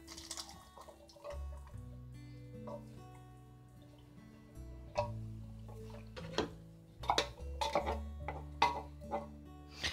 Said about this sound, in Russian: Сейчас я добавлю нашу консервированную фасоль